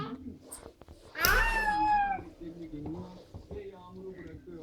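A cat lets out one long, drawn-out meow, loud and nearby, with household voices murmuring before and after.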